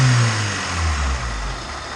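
A built, high-compression Honda D16 turbo engine with a GSR tune runs close by in an EG Civic, a steady low rumble with a slight rise in revs partway through.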